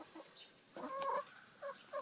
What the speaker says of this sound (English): You're crazy, crazy chickens.